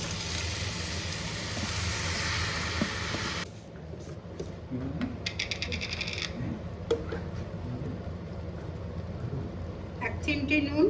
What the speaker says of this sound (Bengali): কড়াই গরম হয়ে গেছে, এবার আমটা ঢেলে দিচ্ছি।